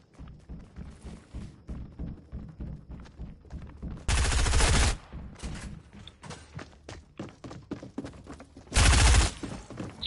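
Gunfire in a PS4 video game: rhythmic, repeated weapon shots with two loud, sustained bursts of heavy firing, a few seconds apart.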